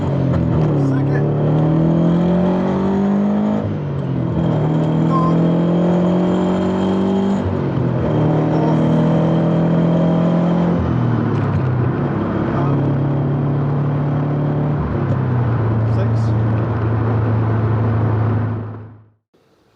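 A manual car fitted with an IRP V3 short shifter accelerates on a test drive, its engine rising in pitch through each gear and dropping at every shift, loud and steady inside the cabin before cutting off at the end.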